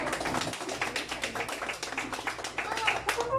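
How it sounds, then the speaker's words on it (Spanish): Audience applause at a mariachi birthday celebration, a dense steady clatter of many hands clapping close by that swells toward the end, with voices mixed in. "Y ese aplauso bien bonito que se escuche"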